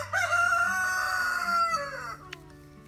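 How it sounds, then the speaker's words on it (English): A rooster crows once in a long, drawn-out call, fairly close and clear, trailing off into quiet. "The rooster crowing is the one that was just in the camera a minute ago."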